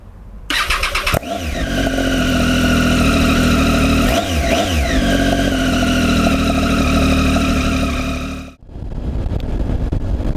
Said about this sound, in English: I'm just going to warm the bike up